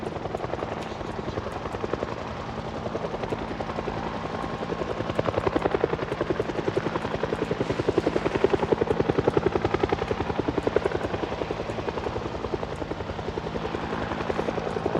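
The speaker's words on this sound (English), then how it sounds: "Pretty sure these are updated chopper sounds, too." Updated helicopter sound from a zombie apocalypse video game, a continuous loud rotor chop with rapid steady blade thumps throughout and no talking.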